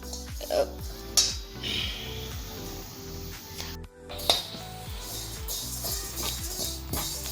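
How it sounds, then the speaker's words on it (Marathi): Cumin seeds dry-roasting in a pan for homemade masala made without onion or garlic, with steady stirring scrapes and metal clinks of a spoon against the pan over a soft background sizzle. "आता आपण जिरं भाजूया"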